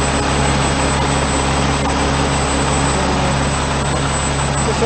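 A tractor's second PTO running in a farm shop, giving a steady, loud mechanical drone with a constant high whine on top, unbroken throughout.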